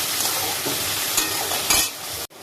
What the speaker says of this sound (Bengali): মটরশুটি মটরশুটিগুলো একেবারে ভেজে নেবো